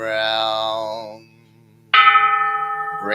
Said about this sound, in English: Vowing that the sound of this bell pervades the universal Dharma realm